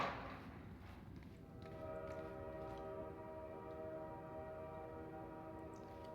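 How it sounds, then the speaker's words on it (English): A ghost train horn sounds in Garry's Mod near a tunnel blocked by a train: one long, steady, droning blast with layered tones, fairly faint and distant, over a low background rumble. "And it makes hearing that train horn just a little more eerie."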